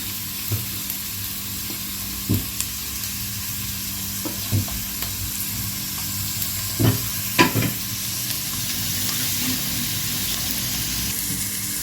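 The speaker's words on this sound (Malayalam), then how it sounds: "അത് ജസ്റ്റ് ഒന്നിങ്ങനെ ഇളക്കി കൊടുക്കാം, മിക്സ് ചെയ്ത് കൊടുക്കാം." Chopped onion and filling for a chicken bread pocket are stirred in a frying pan over medium flame, with a steady low sizzle and several scraping clicks of the spoon. Nobody speaks.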